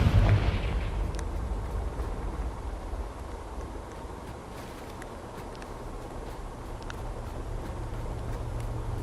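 A Confringo fire spell from the Hogwarts Legacy video game detonates with a loud, booming blast at the start, then fades into a long, low rumbling tail.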